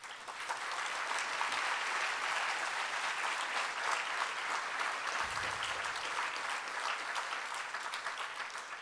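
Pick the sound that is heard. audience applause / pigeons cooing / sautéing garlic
audience applause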